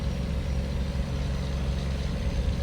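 Steady idle of an old Mack B61 truck engine heard from inside the cab in American Truck Simulator, a deep, even low rumble with a constant drone, close and alone without talk.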